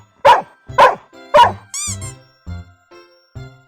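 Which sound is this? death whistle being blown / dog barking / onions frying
dog barking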